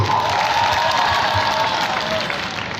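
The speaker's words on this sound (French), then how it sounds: "Est-ce qu'on peut applaudir pour Simone?" An audience at a comedy show in Côte d'Ivoire applauds for Simone, a dense sustained wash of clapping with some crowd noise, loud and continuous throughout.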